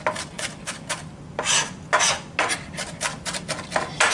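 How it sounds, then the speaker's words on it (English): A knife chops meatball ingredients finely on a cutting board for turkey meatballs, a quick run of close, crisp, irregular taps and scrapes with no talking. "we're just chopping this down all the way into a fine, fine disc"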